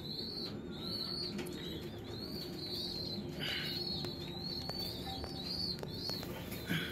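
Racing pigeons kept as a hobby, with soft low cooing under repeated high bird calls and occasional wing flaps, steady and fairly faint throughout, no talking.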